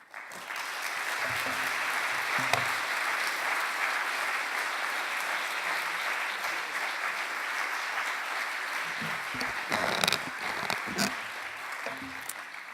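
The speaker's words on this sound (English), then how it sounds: "the sustained applause says it all" Sustained applause from a conference audience after a keynote address, a long, even wash of many hands clapping that holds steady for over twelve seconds, with a few louder claps standing out near the end.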